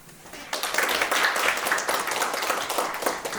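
Applause from a forum audience greeting a researcher from the Korea Maritime Institute at a marine leisure forum, moderately loud clapping that swells after a quiet start and holds steadily without speech.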